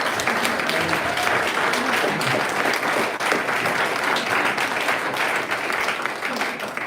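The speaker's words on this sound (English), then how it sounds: "Give us a round of applause." Audience at a UK book launch for "Walking With Gorillas" breaking into sustained applause, a thick, even roar of many hands clapping throughout, with some crowd voices mixed in.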